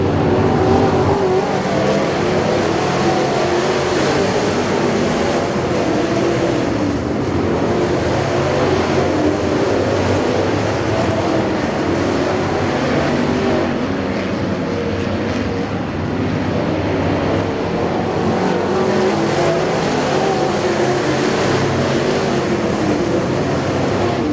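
Race cars roaring around a dirt track during a feature race, engines droning loud and continuous for the whole stretch with swelling passes and no talk over them.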